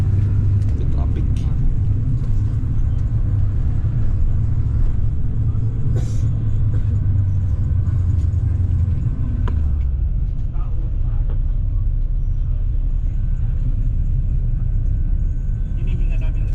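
Low, steady engine rumble from a crowded bus crawling through traffic near Balintawak, continuous and fairly loud throughout, with a faint murmur of voices in the background.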